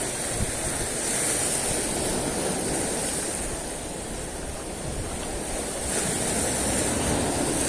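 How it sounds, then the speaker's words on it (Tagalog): Sea waves crash and roll continuously nearby on a fishing trip, a loud, broad roar of surf with wind buffeting the microphone and no voices. "Oo, namamalo ang alon."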